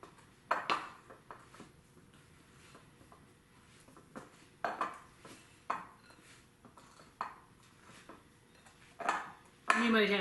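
A spoon knocks and scrapes against a bowl while scooping blueberry orange scone dough, making soft, irregular clinks spaced a second or so apart at a quiet level.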